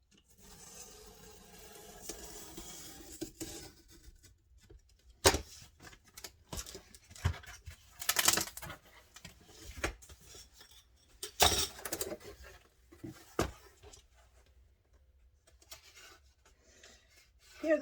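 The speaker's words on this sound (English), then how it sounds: "So I'm gonna cut here." A knife slices through thin cardboard in scattered scratchy strokes and short scraping bursts, close and quiet, with pauses between cuts.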